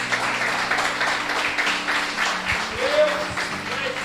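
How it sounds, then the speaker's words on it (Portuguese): A church congregation applauding, a broad patter of many hands clapping at moderate distance, mixed with a voice speaking over it. "Você pode aplaudir o nome do Senhor Jesus?"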